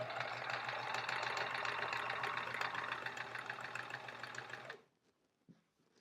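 A sewing machine stitches steadily through three layers of fabric for a pillow case, a loud, even mechanical whir that runs for about five seconds and then stops, leaving near silence with a faint click.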